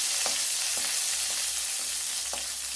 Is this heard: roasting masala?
yes